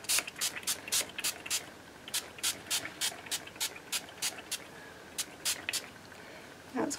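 Short repeated bursts of Salvage Patina Distressed Spray Stain hiss from an aerosol can, in a quick irregular rhythm with brief pauses, close and fairly quiet.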